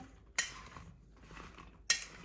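Salt, red chili powder and turmeric get mixed in a bowl with a spoon, giving two faint, sharp metallic clinks about a second and a half apart amid quiet stirring.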